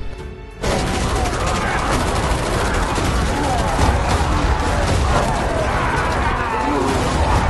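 Heavy, continuous gunfire erupts after a brief quiet moment, dense rapid shots and booms blending into a sustained roar.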